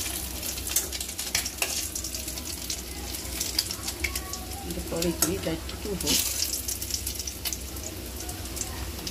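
Masala being fried down in a pan for a fish curry: a steady, moderate sizzle with occasional clinks of stirring, while a voice talks briefly over it.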